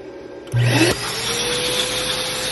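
A small cooling fan inside a Lagenda B322 laptop kicks on with a brief loud whir and rising whine, then settles into a steady, quieter hum that keeps running.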